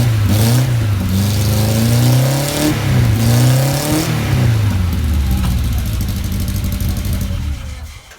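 A bored-out Honda S800 race car engine runs and revs, its pitch climbing and falling in repeated strong sweeps, loud and close, then settles toward a lower idle before cutting off near the end.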